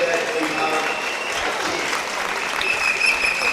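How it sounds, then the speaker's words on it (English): Stadium crowd applauding a refugee relay team finishing a race at Nyayo National Stadium in Nairobi, steady dense clapping throughout, fairly loud and carrying on alone without pause. "And all the fans clapping,"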